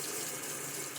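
Water runs steadily from a tap, rinsing a Feather AS-D2 safety razor during a wet shave, a continuous close splashing hiss with no pauses and no voices.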